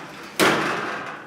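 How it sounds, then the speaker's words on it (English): A cabinet sliding door rolls along its track, starting with a sudden knock and then a sustained rumbling slide that slowly fades, heard close up with no talking. "All cleaned up finally, and the doors now don't rub."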